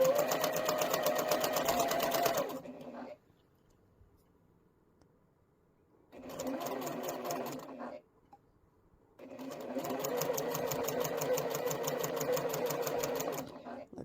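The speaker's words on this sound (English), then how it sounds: "And you see I'm sewing to the right of this line." A sewing machine stitches quilt fabric pieces in three close, steady buzzing runs separated by short silent pauses.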